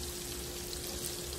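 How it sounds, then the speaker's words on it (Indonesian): Crispy shrimp frying in hot oil, a steady dense sizzle and crackle filling the whole moment at close range with no pauses, no voices over it. "Udangnya udah semua aku goreng ya teman-teman"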